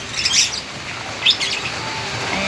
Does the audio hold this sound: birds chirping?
yes